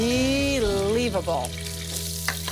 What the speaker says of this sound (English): They just need a quick sear on each side.